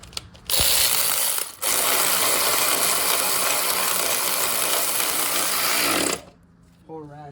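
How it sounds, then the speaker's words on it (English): A worn ratchet wrench turning a small bolt while flushing the power steering pump on a 2005 Ford Mustang 4.0, loud rapid clicking bursts close to the microphone, with a brief pause, then stopping before a short voice. "Pull ratchet."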